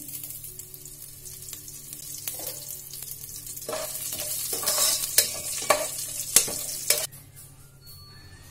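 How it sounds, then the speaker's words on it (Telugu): Whole spices, bay leaf and curry leaves frying in hot oil for chicken biryani, a low hiss rising into loud crackling spurts and spatters, then suddenly dropping away, close and with no talk. "వీటన్నిటిని ఇలా ఫ్రై చేసుకోవాలి. కొద్దిగా కరివేపాకు,"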